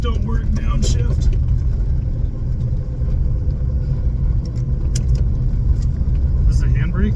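Classic VW Beetle with failed brakes rolling along, its engine rumbling steadily and loud through downshifts, with brief rattles and clicks over the drone and a voice talking throughout.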